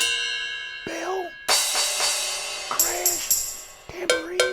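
A Donner StarryKey 37 synth plays a bell patch: several bright struck tones with long ringing tails that overlap, loud and close, with no voice.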